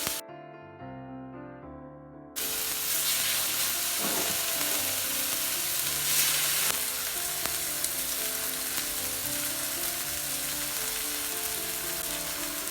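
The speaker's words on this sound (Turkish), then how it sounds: "Etler yapışmasın diye kızan tavama koyuyorum arkadaşlar" Slices of chicken breast sizzle and fry in a hot oiled pan, a steady loud crackling hiss that starts abruptly after a brief quiet moment and continues without pause.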